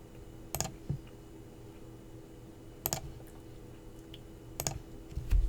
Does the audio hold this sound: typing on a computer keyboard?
yes